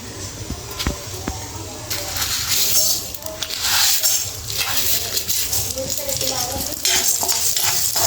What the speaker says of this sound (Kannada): ಆ್ಯಂಡ್ ಇದು ಫ್ರೈ ಮಾಡ್ಕೋಬೇಕು, ಚೆನ್ನಾಗಿ ಫ್ರೈ ಮಾಡ್ಕೋಬೇಕು.